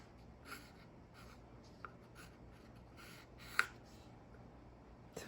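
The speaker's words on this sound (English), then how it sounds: "I'm just doing a 1-minute sketch" Pencil sketching a calla lily on paper, soft scratchy strokes in quick irregular bursts, faint and close, with a few sharper taps.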